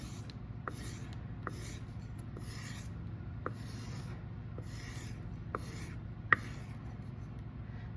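A round woodworking tool is rolled and rubbed along a homemade leather stropping board on a workbench, giving soft repeated swishing strokes about once a second with a few light taps; quiet and close, no talk.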